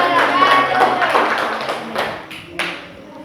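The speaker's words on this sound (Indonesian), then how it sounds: "Tepuk tangan dulu untuk kelompok 1." Classmates in a biology classroom clap for a presentation group, a short, moderately loud burst of clapping with a few sharper taps that fades within a few seconds.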